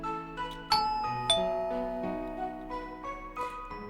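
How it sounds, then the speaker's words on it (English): A doorbell in Corpse Party: Book of Shadows chimes in a clear two-tone ding-dong, struck twice in quick succession with ringing tones that fade out, no voices. "I rang the doorbell."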